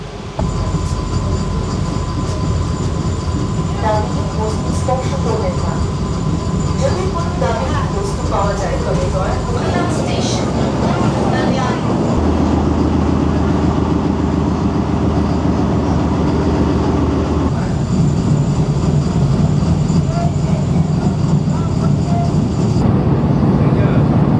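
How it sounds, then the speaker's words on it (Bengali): A moving train rumbles steadily on the tracks throughout, a loud continuous roar with rattling wheels and voices murmuring in the background. "ট্রেন মোটামুটি তার স্বাভাবিক গতিতেই যাচ্ছে"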